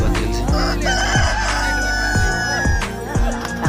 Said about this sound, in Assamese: কুকুৰা দুটা লৈ আহিছিলোঁ